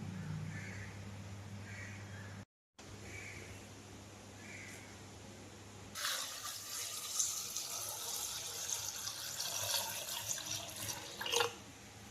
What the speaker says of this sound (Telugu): ముక్కలు శుభ్రంగా కడిగేసుకుందాము